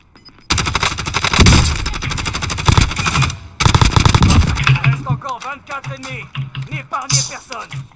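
Rapid, loud bursts of automatic gunfire in a shooter video game, dense volleys in the first half giving way to sparser shots and chirpy in-game effects near the end.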